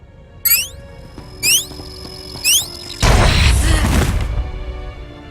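A detonator in a Star Wars: The Old Republic scene beeps three times in rising electronic chirps, then bursts into a loud, broad explosion that rumbles and slowly fades.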